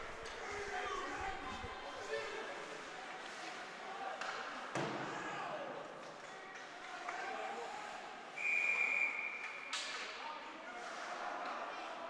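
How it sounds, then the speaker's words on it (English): A referee's whistle blows one sustained, shrill blast at a varsity high school hockey game, West Islip against East Islip, over arena crowd noise, skate and puck clatter, and a commentator talking. "Get a whistle and players coming together"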